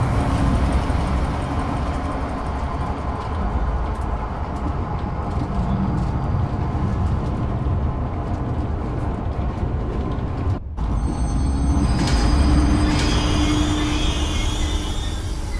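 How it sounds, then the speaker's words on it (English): A steady engine-like rumble of a zoo tour train departing in the video game Zoochosis fills the scene, with a brief sharp dropout midway and a rising whine afterward. "select the giraffe enclosure on the control panel and start the train"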